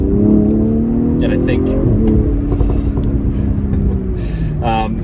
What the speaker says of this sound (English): with this tune, it just wakes that engine up a little bit more